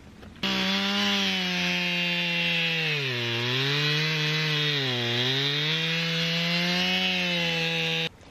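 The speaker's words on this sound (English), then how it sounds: "I better cut it down with a chainsaw" A chainsaw with a dull chain runs steadily at close range for several seconds, its engine pitch dipping twice as the chain bogs into wood, then cuts off.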